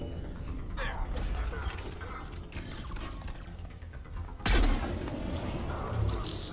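In Mass Effect 3, a sniper rifle fires a single sudden, heavy blast that cuts through steady, dense game-battle noise, followed by a lingering rumble.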